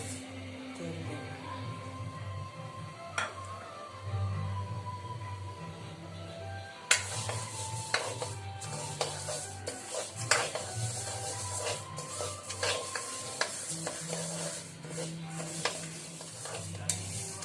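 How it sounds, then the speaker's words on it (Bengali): Dry lentils rattle and scrape in a dry pan as they're stirred, with irregular clicks and a faint sizzling hiss continuing throughout. "এবার আমি শুকনো কড়ায় ডালটা ভেজে নেব।"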